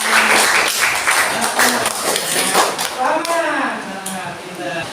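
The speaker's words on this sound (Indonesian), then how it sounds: "Kita tepuk tadi teman-teman." Classmates in a school classroom clap together in a dense, sustained burst of hand claps that fills the room, with voices chattering and calling out over the clapping throughout.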